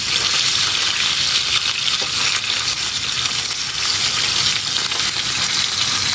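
Fish frying in a pan gives a steady, loud, dense sizzle with crackling spatter that holds evenly throughout, no voices present.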